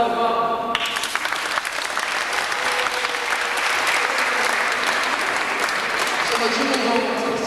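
Sustained audience applause at a religious song festival's post-festival singing event, a dense, steady wash of many hands clapping throughout, loud and close, with some voices mixed in.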